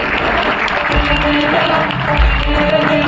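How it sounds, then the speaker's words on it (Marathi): A dense burst of clapping from a large crowd at a tree-conservation award ceremony, loud and continuous throughout. "जोरदार टाळ्या झाल्या पाहिजे"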